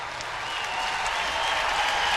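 Baseball stadium crowd at a Mets–Padres game applauding a home-run-robbing catch at the wall, a steady wash of distant clapping and cheering that builds slightly and holds throughout.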